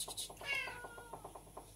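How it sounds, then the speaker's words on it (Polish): A hungry domestic cat indoors gives one short, close meow that rises and falls, heard over faint background clatter. "No i czego miauczysz?"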